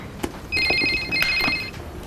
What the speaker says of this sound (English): Are you across the ringing phone situation?